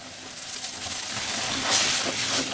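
Pumpkin greens dropped into hot tempered oil, giving a steady, close hiss that swells slightly as the leaves hit the pan.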